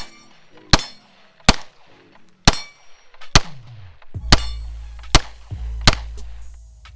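A Taurus G3C 9mm pistol fires about eight sharp, loud shots at a steady pace, each followed by a ringing metallic clang from a steel target, with a low rumble building in the second half.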